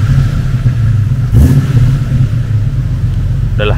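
Jeep Cherokee XJ Limited six-cylinder engine holds a steady, loud idle with a brief rev burst around the middle, heard up close with no talking.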